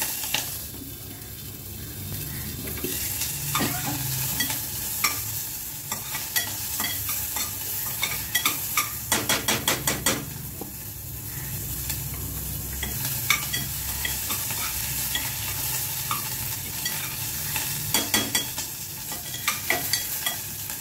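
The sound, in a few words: garlic and ginger roasting in a pan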